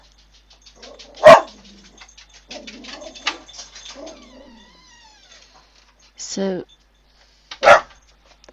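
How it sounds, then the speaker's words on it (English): A dog barks sharply and loudly twice, several seconds apart, in an indoor setting while someone talks quietly and a brief whine-like sound comes between the barks. "sorry about the bark alert."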